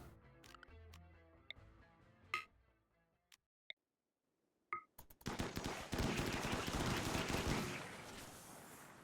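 Automated gun turrets open fire in a base-defense video game on the Odyssey map, starting with a few isolated ticks and clinks and then becoming a dense, loud, sustained burst of rapid gunfire.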